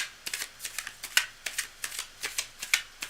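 Tarot cards being shuffled by hand, a rapid series of soft riffling and slapping bursts in an uneven rhythm, close up and fairly quiet with no talking.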